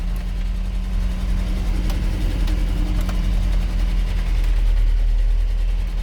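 A GAZelle with a 2.5 402 engine and a Solex carburetor runs after a cold start, holding a steady, close, low hum with a constant droning tone and faint rattles.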